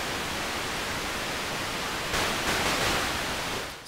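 A white noise patch on a synth in Ableton, used for a build effect, hisses as a steady wash that brightens and swells near the end before cutting off, alone with no talking.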